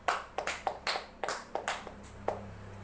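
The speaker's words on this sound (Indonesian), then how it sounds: "Mari kita beri tepuk tangan untuk Mas Wahab." A small class gives a short round of applause for a student during a microteaching exam lesson, with sparse, uneven hand claps from only a few people, fairly quiet in a small room.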